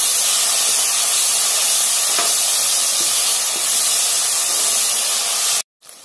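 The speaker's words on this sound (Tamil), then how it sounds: "அந்த எண்ணெயிலேயே நல்லா வதக்கி விட்டுருங்க" Ginger garlic paste sautéing in oil for homemade chicken dum biryani gives a steady, loud, close hiss that runs without pause until it cuts off abruptly near the end.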